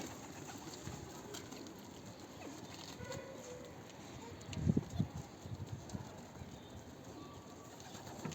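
Pigeons coo and shuffle amid steady background noise, with a short burst of louder fluttering or movement near the middle.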